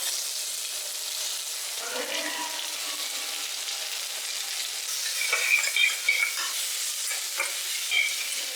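Onions go into a pan where ginger, garlic and green chili are already frying for a Kerala-style tapioca biryani, a steady sizzle with scraping stir strokes and a burst of louder crackling partway through.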